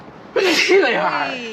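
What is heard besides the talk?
person sneezing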